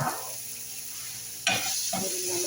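Ginger stirred in a hot frying pan, a soft sizzle broken by two sharp scraping strokes of the spatula.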